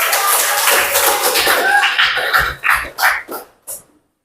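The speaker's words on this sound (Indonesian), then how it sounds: "beri aplaus untuk kita semua" Classroom audience applause: dense, fairly loud clapping that thins out into a few scattered, separate claps before stopping.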